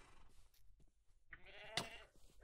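A goat in Minecraft bleats in short nasal cries, one loud wavering bleat standing out among fainter calls, close by and clear.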